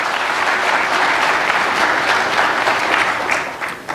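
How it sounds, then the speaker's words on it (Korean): Sustained audience applause welcoming the British ambassador at an opening ceremony: dense, even clapping from a large crowd, loud and steady for about four seconds before tapering slightly at the end. "여러분들 큰 박수로 다시 한번 맞이해 주시기 바랍니다."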